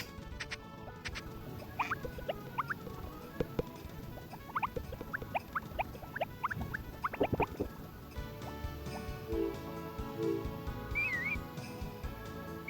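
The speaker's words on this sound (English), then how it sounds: "So we're just whistling for the horse." In the video game Harvest Moon, short rising whistle notes calling a horse repeat in bursts over steady patter like rain, then a few clearer whistled calls toward the end, moderately loud.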